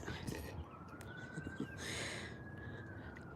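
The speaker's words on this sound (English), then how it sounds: "Yes, we got some police sirens going on." A distant police siren wails in a long rising and falling tone behind faint, murmured voices and light background noise.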